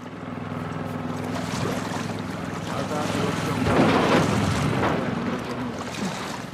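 A boat engine runs in the video game The Last of Us Part II, a steady low drone mixed with splashing water and wind noise that swells slightly midway.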